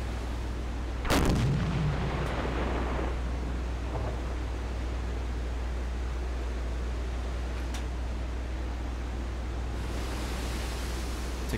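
A Silent Hunter 4 submarine deck gun fires one heavy boom that rolls off into a long fading rumble, over steady sea and engine noise, with faint later thuds and no speech.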